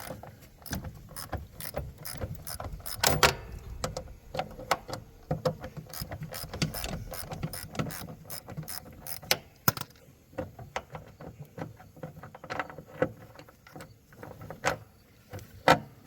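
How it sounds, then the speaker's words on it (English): A pulley nut being worked loose on a Husqvarna riding lawn mower, heard as a string of close, sharp metallic clicks and ratcheting ticks at an irregular pace over low mechanical rumbling, with no talk. "Prying down on this other pulley here, it's just creating enough friction to get that nut loose."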